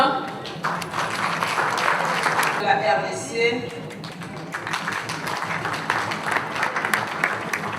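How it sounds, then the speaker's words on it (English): Conference hall audience at a forum in Brazzaville applauds a national delegation, the clapping running under a voice speaking over a loudspeaker as delegations are announced. "on applaudit la délégation du Cameroun"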